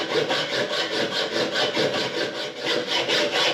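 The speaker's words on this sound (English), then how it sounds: "And then I'll just use a hacksaw" A hacksaw cuts through a piece of metal stock during a home renovation, with steady back-and-forth rasping strokes at an even rhythm, close and fairly loud, with no talking.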